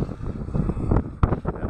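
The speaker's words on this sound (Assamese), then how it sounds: "বতাহ পুৰা বতাহ মাৰিছে" Strong wind buffets the microphone at Bogibeel bridge, a rough low rumble with gusty surges and a sharp thump partway through, loud and close.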